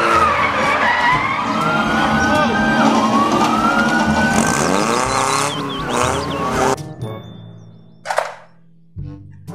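A toy police patrol car lets out a loud, wavering electronic siren that rises and falls continuously for several seconds among other toy vehicle noises, then cuts off and leaves a few short clicks and bumps.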